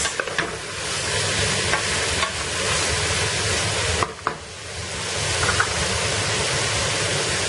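Fresh peas being stirred into a sizzling biryani masala, a steady frying hiss with soft scraping stirs throughout, close and continuous with no talking.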